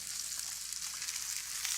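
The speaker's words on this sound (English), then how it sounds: "If you listen now, the sizzling has calmed down a little bit." Food sautés in fat in a clean pan, giving a steady, close, moderate sizzle and crackle with no talk.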